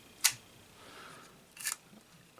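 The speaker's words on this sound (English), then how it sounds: "The shutter fires perfectly" A 35mm Argus A-series viewfinder camera's shutter fires with sharp, light mechanical clicks, one at the start, another a moment later and a third at the very end, close and crisp against near silence.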